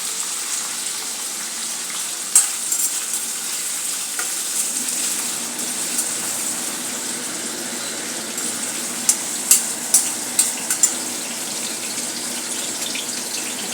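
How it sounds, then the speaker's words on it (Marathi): Cauliflower florets fry in hot oil for kurma bhaji with a steady, close hiss and bubble, broken by a few sharp pops and crackles near the end, with no voice. "अशा प्रकारे आपण फ्राय करून घेत आहोत"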